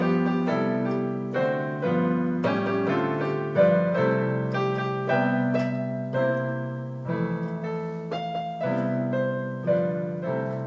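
Solo piano plays Happy Birthday with full, open chords, steady and moderately loud throughout, with no voices.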